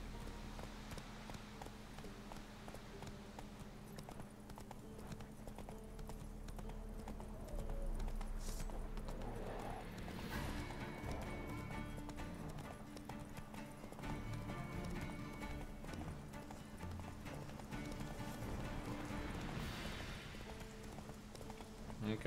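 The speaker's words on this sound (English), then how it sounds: "Just gonna let my horse heal up here." Horse hooves clip-clopping in The Witcher 3: Wild Hunt, a steady rhythmic trot under game music and ambience, with an occasional whinny and a louder stretch of hoofbeats midway.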